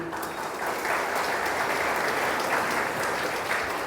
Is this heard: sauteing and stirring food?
no